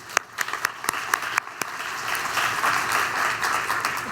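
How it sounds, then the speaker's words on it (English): Audience applause for sponsors at a health conference keynote, starting with a few scattered sharp claps that swell into a dense, steady round of clapping from a large room. "Can we give them a round of applause?"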